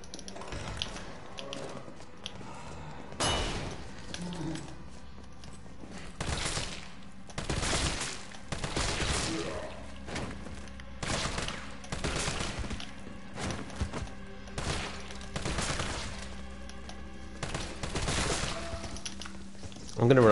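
Repeated bursts of assault rifle gunfire from Resident Evil 3 Remake, loud and sharp, spaced irregularly through the stretch, with a player talking between some of the shots.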